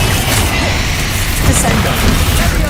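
Blasting-spell impacts in Hogwarts Legacy gameplay, with Bombarda explosions making dense, loud crashing booms and debris rumble that sit up close and carry on without a break.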